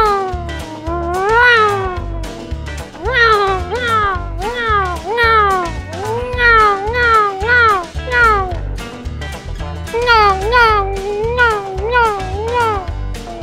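Cats in a GTA video game yowl and meow in loud, repeated rising-and-falling cries, a fighting caterwaul of several animals calling over and over, with rhythmic background game music underneath.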